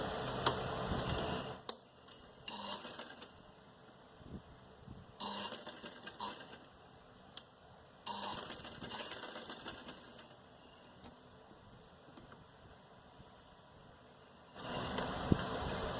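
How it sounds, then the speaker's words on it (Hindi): A sewing machine stitching a sleeve runs in several short bursts of rapid mechanical whirring, separated by quieter pauses, close by and without talk. "अब हम यहाँ पे सिलाई करते हैं, डबल ट्रिपल सिलाई होगी इस पे।"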